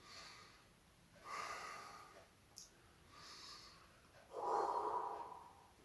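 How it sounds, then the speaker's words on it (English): Slow, deep breaths drawn in and pushed out through the nose and mouth, several soft, airy breaths in a quiet room, the last one strongest. "Take few deep breaths through your nose and through your mouth."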